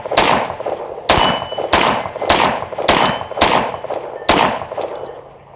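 Rifle fitted with a Midwest Industries 3.5 lb trigger fired at a steady pace outdoors: seven loud, sharp shots about a second apart, each with a short ringing tail and no talking.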